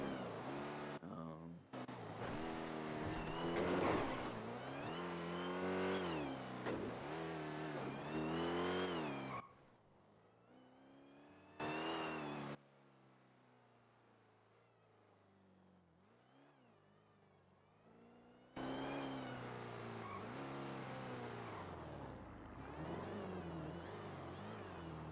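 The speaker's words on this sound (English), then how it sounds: "I want them to hear my car." A car driving in GTA roleplay, its engine revving and shifting through gears with rising and falling pitch, loud at first, dropping to a quieter idle midway, then surging again.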